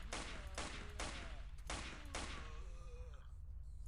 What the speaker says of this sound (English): I really like how my gunshots are lighting the place up.